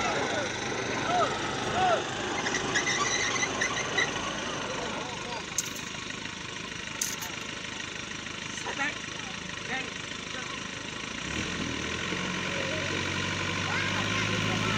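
Off-road vehicle engine idling and creeping in reverse beside a river on a rough trail, a steady low rumble throughout with occasional clatter and a shift in tone near the end, voices calling directions over it.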